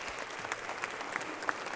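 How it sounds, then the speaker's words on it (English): Steady applause from a live audience at a rock drum mixing masterclass, dense continuous clapping with a few sharper claps standing out, fairly close and filling the whole moment without speech. "One more round of applause."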